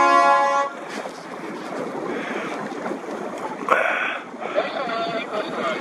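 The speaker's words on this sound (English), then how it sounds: "One sound signal, so we're clear" A single horn blast sounds as the start signal at a sailing race. It is loud and steady at the outset, then gives way to wind and water noise while a commentator talks over it.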